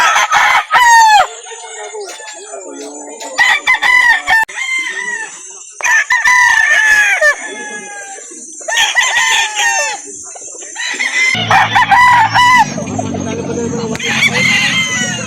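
Chickens and roosters at a farm in Calauan, Laguna crow loudly and repeatedly, with long rising calls overlapping nearby clucking and bird chatter, and a burst of other noise near the end.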